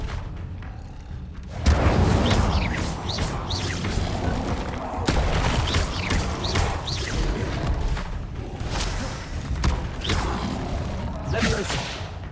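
A fire spell cast in Hogwarts Legacy swooshes and roars into a dense, sustained crackling blaze, loud and close, with repeated whooshes and thumps layered over the rumble.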